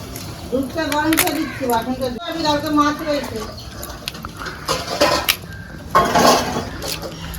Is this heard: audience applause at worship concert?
no